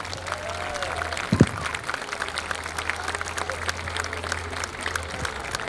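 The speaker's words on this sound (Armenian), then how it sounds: "ծափահարությունը բոլորին" An audience at a church Christmas pageant applauds in a sustained patter of many hands clapping, moderately distant, with a brief louder thump near the start and a low hum underneath.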